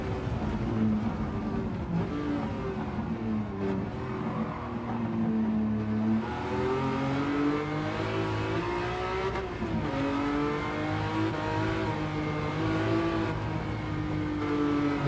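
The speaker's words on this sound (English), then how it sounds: "This engine sounds pretty good." A race car engine in a video game revs up and down steadily, its tone rising and falling through gear changes with a slightly synthetic, game-like quality, no talking.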